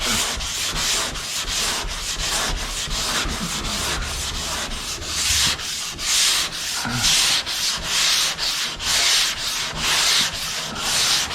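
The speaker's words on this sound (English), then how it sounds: "Letting that sander do the work, even though it's my arms that are getting worn out." A sander smooths the quarter panel of a Suburban's bodywork with steady, rhythmic rasping strokes. It is close and loud, with no talking.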